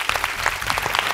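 An audience on a televised singing reality show claps in a short, dense burst of applause, steady and fairly close, with no voices over it.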